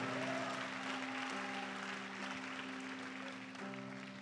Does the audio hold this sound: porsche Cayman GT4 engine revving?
no